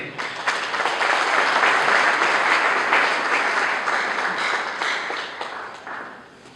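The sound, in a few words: audience applause and cheering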